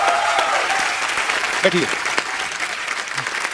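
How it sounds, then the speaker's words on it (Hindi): Studio audience applauding loudly for two arriving guests on a Hindi comedy talk show, a steady dense wash of clapping throughout with a host's brief spoken words over it. "दोनों के लिए जोरदार तालियां।"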